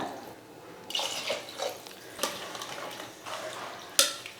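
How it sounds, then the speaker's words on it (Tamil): Water poured into a pot of sautéed rice masala, two measures of water per measure of rice, giving faint splashing and trickling bursts with small clinks at close range in a quiet home kitchen. "இப்போ நம்ம வந்து தண்ணி சேர்த்துக்கலாம்"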